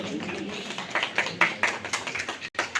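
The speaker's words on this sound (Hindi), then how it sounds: "सभी ताली बजा के भाई साहब का स्वागत करें" An audience at a BJP organizational meeting claps to welcome a guest, with brief, uneven bursts of hand claps close by and some voices mixed in.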